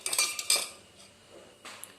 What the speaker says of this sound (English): Now switch on the stove and simultaneously keep on stirring it.